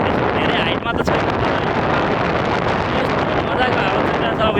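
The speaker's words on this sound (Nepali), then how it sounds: "अब यो ब्याकग्राउन्डमा हावाको आवाज त तपाईँहरूले सुनिरहनु भएकै छ" Strong wind buffets the microphone on a hilltop at Kanchangadi, a loud continuous roar with gusty rumble throughout.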